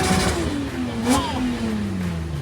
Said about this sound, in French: Il a le démon ton moteur là, c'est pas possible pour être aussi agressif.